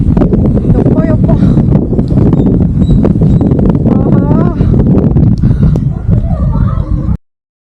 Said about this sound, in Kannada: ಗಾಳಿ ಸೌಂಡ್ ನೋಡಿ